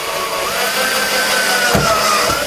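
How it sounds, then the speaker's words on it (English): Electric drill with a standard twist bit opening out holes in a metal monitor input panel for an S4000 console, a steady loud whine with a brief bite partway through. "and then we'll just open them out with a standard drill bit."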